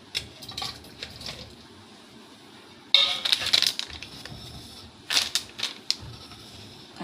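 Chopped tomatoes tumble into a pressure cooker pot holding washed dal for rasam, giving light taps and rustles, then a louder close clattering burst of pieces hitting metal, followed by one more short clinking burst, with no talking.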